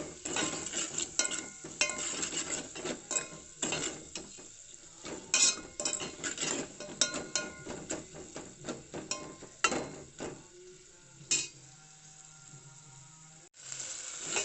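A utensil scrapes and stirs salted onions in a pan over a steady sizzle, with repeated clinks of metal against the pan.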